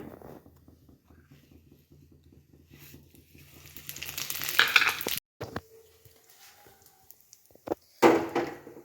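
Carom seeds and cumin hit hot oil for a bhindi fry, giving a faint crackle that swells into a loud, hissing sizzle, then cuts off abruptly before a few sharp bursts of spitting.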